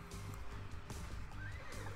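A horse whinnies in the John The Zombie video game, heard alone over a steady game backdrop with a few faint low pulses.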